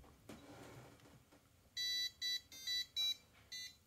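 A PandaPlacer A1 pick-and-place machine plays a short electronic beeping melody at power on, the first bar of the Super Mario Bros. theme, about six bright, evenly spaced tones after a brief quiet mechanical click.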